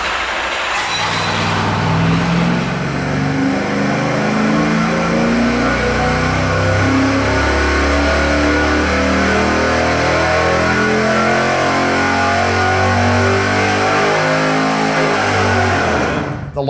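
A V8 engine fitted with long tube headers runs a dyno pull, a loud steady roar that climbs in pitch as it revs up across the run before cutting off at the end.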